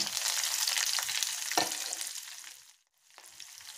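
Chopped green chilies and onion frying in a pan, a loud close crackling sizzle with a stir stroke midway, cutting out briefly before resuming more softly.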